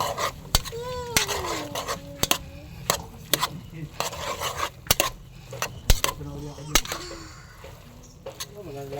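Ginataang bayuko snails being stirred in a cooking pot, with repeated metallic clinks and scrapes of a utensil against the pot in an irregular rhythm, close by, while people talk.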